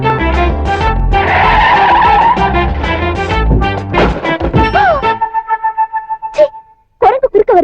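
A car brakes hard and skids with a loud, close tire squeal and engine roar, followed by short rhythmic bursts, a sustained tone and a final screech, with dramatic film music and effects layered in.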